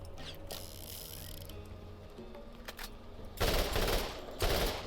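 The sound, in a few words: assault rifle firing in the video game Borderlands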